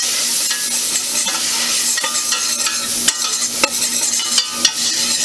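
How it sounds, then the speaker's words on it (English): Finely diced onion sizzles steadily in a hot pan while a utensil stirs it, with scraping clicks and taps over the constant frying hiss. "now we have 1/4 finely diced onion. Just give that a little bit of a stir."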